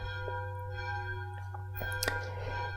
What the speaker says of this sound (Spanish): fijaos qué bonitas las campanas que están sonando, es precioso oír las campanas